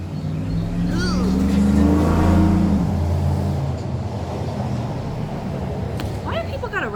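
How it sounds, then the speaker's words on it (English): Car engine revving hard as it climbs a small hill, a loud low drone that swells over the first few seconds and then settles, with a person talking over it. "Why do people gotta rev their car so hard?"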